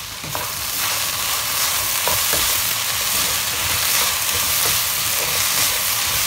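Vegetables for chili paneer sizzle and fry steadily in a pan, a continuous loud hiss with occasional soft stirring knocks, close up.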